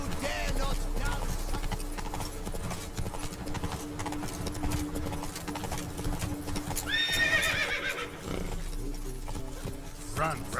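Geralt's horse Roach galloping in The Witcher 3, with a rapid, rhythmic clip-clop of hooves and a whinnying neigh partway through, heard against a busy in-game soundscape.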